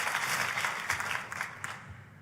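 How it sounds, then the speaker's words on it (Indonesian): Church congregation clapping for Jesus during a sermon, a brief burst of dense applause at moderate distance that fades out near the end. "Tepuk tangan boleh lebih dahsyat lagi buat Yesus Tuhan kita."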